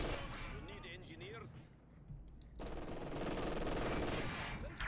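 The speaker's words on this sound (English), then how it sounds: "copious amounts of MG42 fire" MG42 machine gun fire in the Company of Heroes 2 video game rattles as sustained bursts of rapid gunfire, mixed with other battle noise, while a commentator talks over the action.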